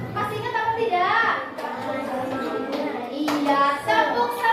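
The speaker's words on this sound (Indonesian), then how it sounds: "Agar belajarnya semangat, kita tepuk semangat dulu." A group of fifth-grade children in a classroom chant loudly together in a quick rhythm, punctuated by bursts of hand claps, with voices close and lively throughout.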